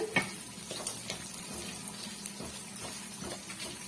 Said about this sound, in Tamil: வெங்காயம் நல்லா வதங்கி வந்துடுச்சு